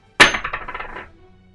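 A large, thick, solid coin drops onto a desk with one sharp, loud metallic strike, then rattles and rings in a quick series of diminishing bounces before settling, heard close up.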